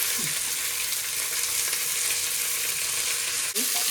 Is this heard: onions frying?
yes